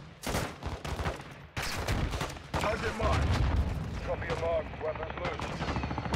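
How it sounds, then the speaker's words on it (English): Explosions and heavy gunfire from an airstrike gun run in Call of Duty: Modern Warfare II, a series of loud booming bursts and rattling shots with game voices talking over the action. "Bam! Explosion."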